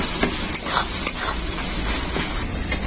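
Tomatoes are mashed and stirred in a sizzling pan, a steady frying hiss broken by repeated scraping, squelching strokes of a spoon at a quick, uneven rhythm.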